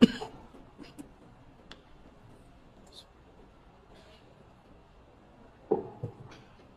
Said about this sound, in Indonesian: turun pesawat saya tiba-tiba batuk, gatal aja